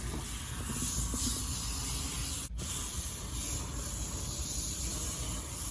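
Water sprays to rinse out a dirty Intex pool intake hose after scrubbing, a steady, close, airy hiss running unbroken throughout with no voices.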